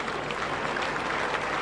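Crowd at a Pakistan versus Sri Lanka cricket World Cup match in 1989 giving a fielder a brief cheer and applause, a steady dense wash of clapping and cheering from a distant stand.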